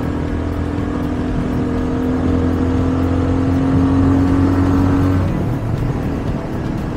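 A 30-year-old Honda Dominator motorcycle labours up a steep Alpine road in Austria, its single engine droning steadily and close under wind noise before the tone drops and eases off.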